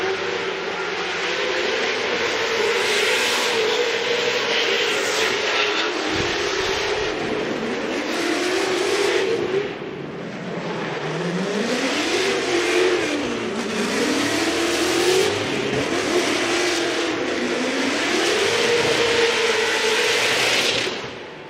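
Formula Drift pro competition cars at full throttle on the Seattle track, loud howling engines swooping up and down in pitch with tyre roar, close and sustained with no talk.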